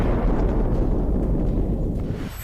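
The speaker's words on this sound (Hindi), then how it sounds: "जिसके बाद वहां धमाके गूंजने लगे।" Explosions at a petrochemical plant in Asaluyeh, Iran: a loud, sustained low rumble of blast and roar that holds steady before tapering slightly at the end.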